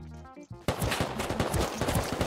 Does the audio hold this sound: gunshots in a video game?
yes